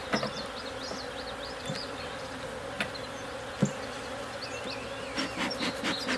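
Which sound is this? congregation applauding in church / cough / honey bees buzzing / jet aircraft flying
honey bees buzzing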